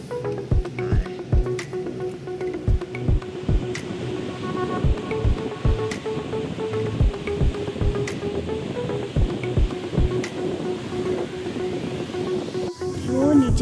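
A river rushes below a mountain trail on the Himalayan Adi Kailash route between Dharchula and Gunji, a steady far-off roar of flowing water under repeated close thumps and knocks.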